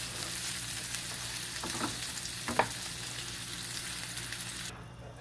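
Marinara sauce and garlic sizzling and bubbling in a pan for spaghetti with ricotta meatballs, a steady close frying hiss with a couple of soft utensil clicks, fading out at the end.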